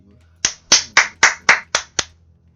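Seven sharp, evenly spaced hand claps from a conference audience ring out in a slow, deliberate rhythm, close and crisp, with quiet in between.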